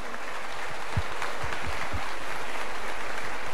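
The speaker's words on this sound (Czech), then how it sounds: "To chce potlesk." An audience in a conference hall applauds in a steady, continuous wash of clapping, moderately loud and even throughout.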